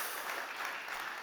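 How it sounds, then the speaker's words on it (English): Brief, steady applause from a startup competition audience, a soft, even patter of many hands heard from a distance. "Big applause for that."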